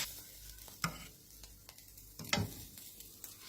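Fish roe is dry-roasted and stirred in a pan, with soft sizzling and a few sharp scrapes and clicks of the utensil against the pan, heard close and quiet with no voices.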